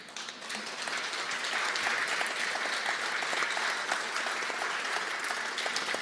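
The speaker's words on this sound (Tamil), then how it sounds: "எல்லோரும் எழுந்து நின்று பலமாக கைத்தட்டுவோம்" A large crowd at a political party event stands and claps loudly, a thick, sustained roar of applause from many hands that builds slightly and holds steady.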